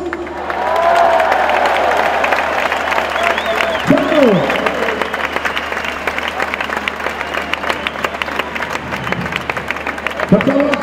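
A large open-air crowd in Piazza della Signoria, Florence, applauds and cheers during a football club presentation event, a loud sustained wash of clapping with scattered whoops, lasting the whole stretch.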